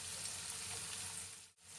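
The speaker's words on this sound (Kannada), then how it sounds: "ಇದೊಂದು ಸ್ವಲ್ಪ ಟ್ರಾನ್ಸ್ಪರೆಂಟ್ ಆಗಲಿ, ಅಲ್ಲಿವರೆಗೂ ಇದು ಸ್ವಲ್ಪ ಫ್ರೈ ಮಾಡ್ಕೊಳ್ಳಿ" Green chillies frying in oil for a soya chunks biryani, a steady close sizzle with faint stirring, broken by one brief near-silent dip toward the end.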